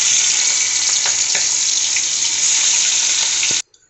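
Prawns rubbed with salt, turmeric and chili powder fry in hot oil for a prawn malai curry, a loud, steady close-up sizzle and hiss that cuts off abruptly near the end.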